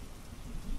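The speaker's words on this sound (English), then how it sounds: "a storm rumbled in the forest. Thunder boomed, lightning flashed, rain poured into the little fox's den." Thunderstorm sound effect of steady pouring rain with a low rumbling of thunder underneath, dense and continuous for under a second.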